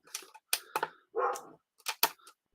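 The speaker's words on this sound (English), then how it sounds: "the dog seems to be barking with another dog." Dogs bark in a quick series of sharp, close yaps, with one longer growling or whining bark in the middle, mixed with small clicking sounds from Lego pieces.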